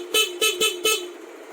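Four short, loud honks from a car's stock horn in quick succession, then the last blast trails off into a lingering tone.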